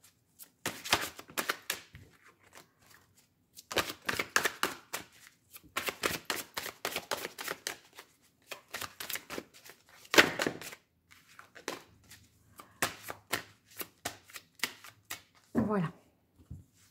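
Tarot cards being shuffled by hand in bursts of crisp riffling and slapping, close and clear, with pauses between several rounds of shuffling.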